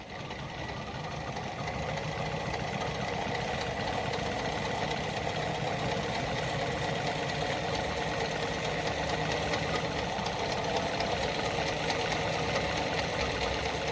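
A Lada model 233 sewing machine runs a zigzag stitch, giving a continuous close, even mechanical chatter that holds steady throughout without any talking.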